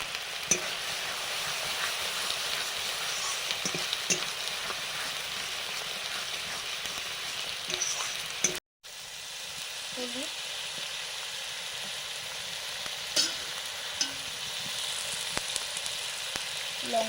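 Masala frying in a pan with water and Kashmiri chili powder, a steady close sizzle with scraping stirs throughout, broken once by a brief moment of silence midway.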